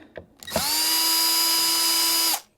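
A cordless power drill spins out a Jazzmaster guitar's pickguard screws in one steady whine of about two seconds, close up, after a few small clicks.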